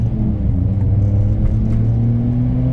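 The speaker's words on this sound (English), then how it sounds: "Only going 40 kilometers, but it feels like it's fast because the car is small." Small Honda Life kei car driving at about 40 km/h, its engine a steady close droning rumble with a faint rising whine, heard from inside the cabin without talk.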